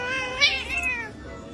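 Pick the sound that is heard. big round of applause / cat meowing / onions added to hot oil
cat meowing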